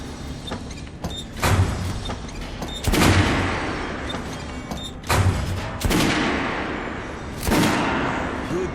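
Repeated bursts of automatic gunfire in the video game Metro Last Light Redux, several loud volleys of a Kalash rifle spaced a second or two apart, each ringing out with a short decay.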